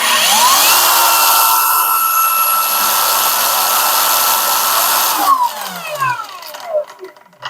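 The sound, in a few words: Lucid LY 8500 grinder running at speed 2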